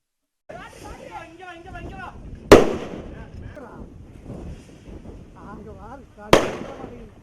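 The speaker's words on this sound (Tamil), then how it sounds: "காட்டு யானைகளை விரட்ட வனத்துறையினரும் அக்கிராம மக்களும் வெடிகளை வெடித்தும் கூச்சலிட்டும் போராடி வந்தனர்." Two loud, sharp firecracker bursts set off by villagers and forest staff to drive off wild elephants, several seconds apart, each with a short ringing decay, over people shouting and talking nearby.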